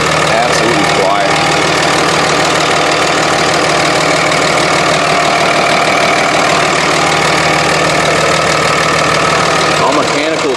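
Cummins diesel engine idling in a 3rd gen six-speed manual dually truck, a steady close rumble with a clattering knock, continuous and loud throughout.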